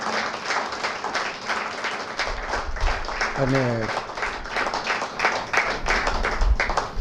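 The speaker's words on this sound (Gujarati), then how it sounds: "બંને વક્તાઓનું ખૂબ તાળીથી અભિવાદન" An audience applauds two speakers at a literary centenary gathering, a dense patter of many hands clapping continuously, with a brief spoken word partway through.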